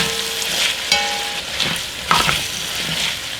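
Chopped onion and eight ounces of mushrooms are stirred in a pan of hot butter and oil, a close, loud sizzle broken by several scraping turns of the spoon.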